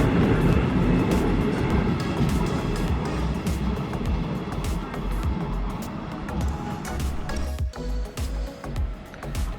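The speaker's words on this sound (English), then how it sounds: "So right now our train is arriving to bring us back to our starting point of Levanto." Loud rumbling roar of a train pulling into a station in Cinque Terre, Italy, with rattling, squealing metal and a brief high screech near the end.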